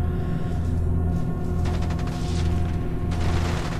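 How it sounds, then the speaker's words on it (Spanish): Sci-fi gunfire between crew members aboard a spaceship in Genesis Alpha One, dense bursts of shots over a constant low mechanical hum, loud and continuous. "Ya se están pegando tiros."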